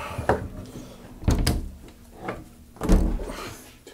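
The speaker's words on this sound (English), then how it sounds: "That is the heaviest door in the world!" A heavy tiny house door is handled, giving several thuds and knocks at irregular intervals, with two sharper bangs standing out, all close by with no talk.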